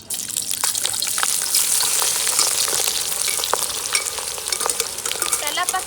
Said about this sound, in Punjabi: ਕਰੇਲੇ ਆਪਾਂ ਫਰਾਈ ਕਰਾਂਗੇ